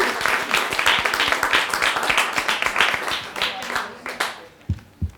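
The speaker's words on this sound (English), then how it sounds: "Let's do a round of applause for Rosalyne." An audience claps for a presenter at a talks event, a dense run of hand claps that thins into a few scattered claps near the end.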